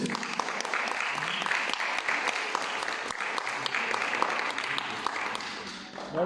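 A live audience claps for a band at a concert in Basiano, giving dense, sustained applause that stays strong throughout with a little talk under it.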